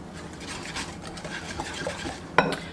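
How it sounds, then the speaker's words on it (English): Poppy seed dressing whisked together in a bowl, the whisk scraping and stirring in a quick, light rhythm with a sharp metallic clink near the end, no talking. "you're just going to whisk this together until it's really well combined"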